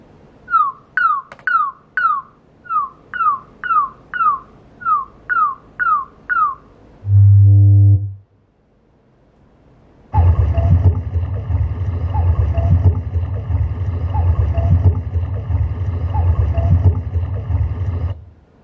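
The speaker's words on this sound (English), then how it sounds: "here is the demo of the AI room calibration, all thanks to connecting the app to the soundbar." Test tones from an LG S95QR soundbar running its AI room calibration: a run of rising chirps, a brief low tone, a short silence, then a loud broadband noise burst that holds steady to the end.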